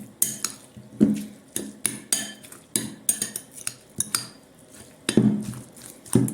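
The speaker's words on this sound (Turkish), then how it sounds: "Kıymamızı bu su ile açacağız. Güzelce karıştıralım." Minced meat and water are mixed in a bowl with a spoon, giving repeated wet clinks and scrapes against the bowl in an uneven rhythm, close and clear, with no talking.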